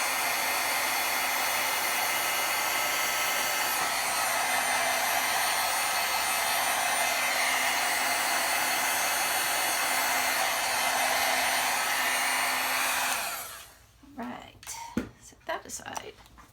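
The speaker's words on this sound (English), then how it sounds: "when you are using the heat tool on vellum or this window sheet, you want to hit from the front and the back." A heat tool blows a loud, steady roar onto a clear window sheet for a handmade card. It runs continuously for about thirteen seconds, then cuts off, leaving faint handling noises.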